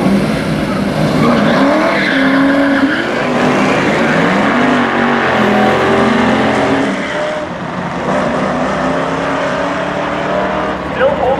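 Drag race down a strip between an SRT Charger and a sleeper Chevy Nova, engines roaring loud and sustained with rising and falling pitch sweeps, under an excited commentator's voice.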